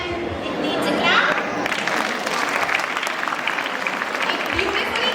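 An audience at a school annual function applauds with continuous, dense clapping that lasts throughout, fairly loud and close, with some crowd murmur underneath.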